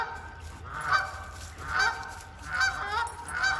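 Geese honk repeatedly at a steady pace by a creek, several calls in a row, moderately distant over a low outdoor rumble.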